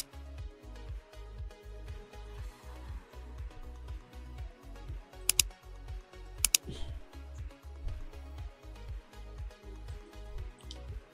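Rapid, steady keystrokes on a computer keyboard enter a Kali Linux terminal command, a close, even clatter with a couple of sharper clicks partway through and no voices.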